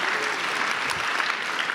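Keynote audience at a customer-service talk clapping hands, a dense continuous round of applause from a large room, fairly close and steady without voices on top.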